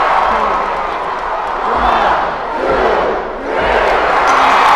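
Wrestling crowd at Madison Square Garden in New York City cheering at a WWE event, a loud, massive roar of voices that swells, dips briefly, then surges again, with shouts and clapping mixed in.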